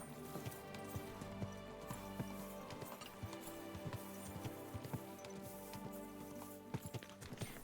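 Horse hooves clip-clop steadily in Kingdom Come: Deliverance II, a run of even, moderately loud steps under layered game ambience and music, with no talk over them.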